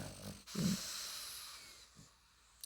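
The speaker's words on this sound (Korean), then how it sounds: "코 골지 마. 강아지 코골을 골아가지고." A dog snores softly: a low rasping snort, then quieter breaths trailing off, close and faint with no talking.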